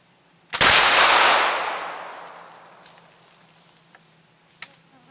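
Black powder trade gun firing a hunting load outdoors: one loud, sharp blast followed by a long fading rumble and echo, with faint scattered noises afterward.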